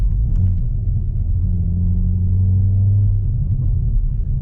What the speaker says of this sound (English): The car rev matches for you